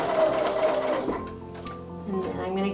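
A sewing machine stitching a quilt block seam runs in a steady mechanical whir, pausing briefly and starting again, close up, with a voice talking over it.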